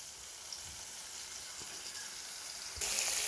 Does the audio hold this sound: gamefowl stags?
no